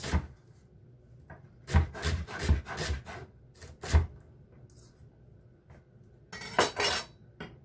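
A knife chops onions, carrots and celery on a wooden board for a bolognese, with clusters of sharp close chops broken by quiet pauses and a final quick burst.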